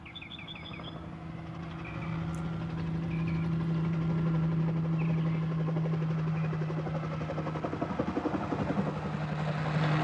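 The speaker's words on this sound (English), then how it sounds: "Helicopter's a good sign." A helicopter's steady rotor thump and engine drone builds and holds nearby, while birds chirp faintly in the background.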